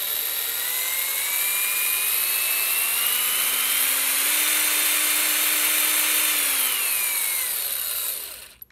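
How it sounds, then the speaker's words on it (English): A cordless power drill motor whirs steadily, its pitch climbing slowly as the trigger is squeezed harder, holding high, then dropping away as it winds down and stops. "If you put very light pressure on the trigger, then it will go very slow."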